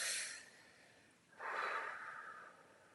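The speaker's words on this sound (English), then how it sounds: "Take a deep breath." A person takes a deep breath: a breathy exhale fades out, then after a short pause a long, close inhale rises and slowly trails off.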